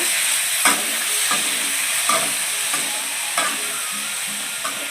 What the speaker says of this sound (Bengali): দিয়ে নেড়ে ফেড়ে ওটাকে ভালোভাবে কষিয়ে নেব